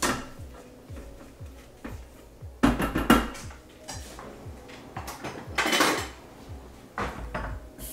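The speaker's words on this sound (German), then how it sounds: "Brauche ich einen Spatel, muss alles nach unten schieben." A spatula scrapes and knocks against the inside of a Thermomix mixing bowl while pushing food down, with irregular clattering taps and a few louder scraping bursts close by and no speech.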